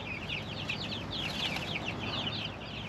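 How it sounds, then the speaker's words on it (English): Young chicks in a hoop coop chirp and peep continuously in busy overlapping bursts, close by, over a low steady background hum. "I'm sure these chicks think this is home, but it's really not."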